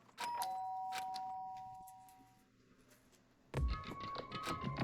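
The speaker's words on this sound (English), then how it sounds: "did I hear the doorbell?" A video game doorbell chimes in a clear two-tone ding that rings out and fades, followed by a burst of louder, busier game sounds.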